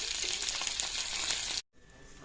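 Mustard seeds, green chillies and curry leaves tempering in hot oil for dhokla, a close crackling sizzle that cuts off abruptly and returns much fainter.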